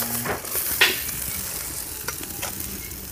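Potatoes frying in a pan of hot oil left from fried fish hiss and sizzle steadily up close, with a few sharp spatters and a light scrape of a spatula, and no one talks.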